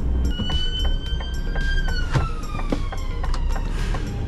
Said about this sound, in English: And an ambulance is coming this way.